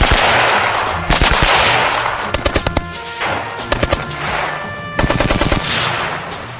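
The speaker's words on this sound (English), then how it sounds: "Continuous fire could overheat and distort the barrel, affecting accuracy." A Gatling gun fires in loud continuous bursts with rapid rattling reports, pausing briefly between volleys, heard close and outdoors.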